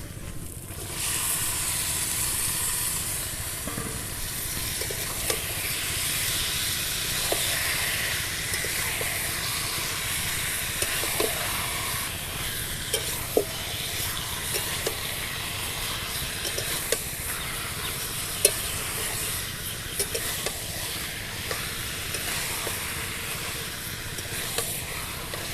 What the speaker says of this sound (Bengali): এবার আমি এর মধ্যে মশলা মাখানো চিকেনটা দিয়ে দেব।